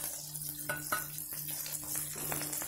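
Fenugreek leaves and green coriander frying in oil, a soft continuous sizzle with a few light stirring clinks and scrapes against the pan, fairly quiet throughout.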